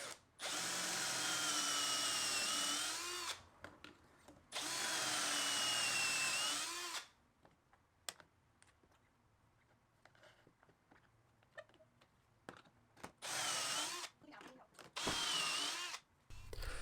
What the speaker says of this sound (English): and then get the holes drilled.